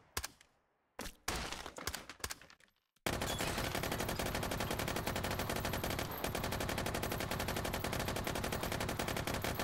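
Gunfire in the VR shooter game Hot Dogs, Horseshoes & Hand Grenades: a few separate loud shots, then a long unbroken burst of rapid automatic fire from an Uzi, close and harsh.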